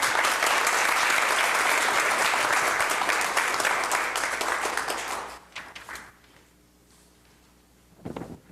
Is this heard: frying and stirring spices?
no